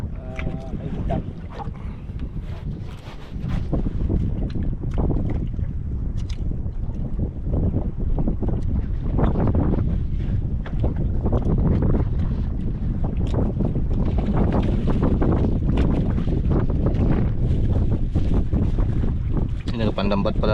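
A small outrigger fishing boat runs on open sea, its engine a steady, loud low drone mixed with wind buffeting and water rush. Voices talk intermittently over the noise.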